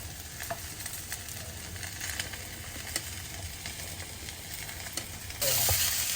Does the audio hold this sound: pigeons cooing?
no